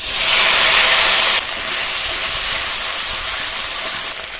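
Whole cumin, onion and green chili paste hit hot leftover fish-frying oil in a loud, close, continuous sizzle that roars at first, then settles into a slightly quieter steady hiss.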